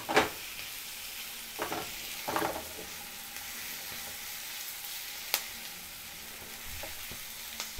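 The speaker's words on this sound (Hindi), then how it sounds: "अब यहाँ पे हम डाल देंगे अपनी स्प्रिंग अनियन की वाइट पार्ट।" White parts of spring onion stir-fried in a hot pan for a Chinese-style hot garlic sauce: a steady, soft sizzle runs throughout, marked by a few faint scrapes and light clicks of stirring.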